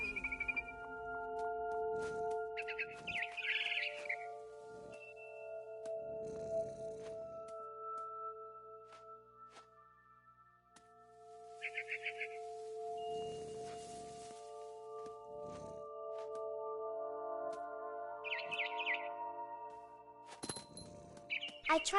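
Barn swallow chirping in the video game What Remains of Edith Finch, with short high twittering bursts recurring over a sustained tonal music bed, fairly soft and spread across the scene.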